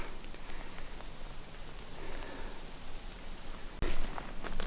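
Heavy rain falling outdoors in the woods, a dense continuous close hiss and patter throughout, with a brief sharp knock near the end.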